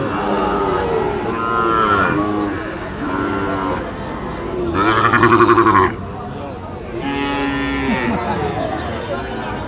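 Sahiwal bulls moo loudly and close by at a cattle market in Ambari, Dinajpur, several long drawn-out lows in succession, with people talking in the background.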